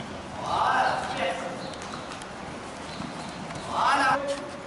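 Horses' hooves clip-clop on the ground in a riding school, in two louder passing bursts amid a general arena din, while an instructor speaks French throughout.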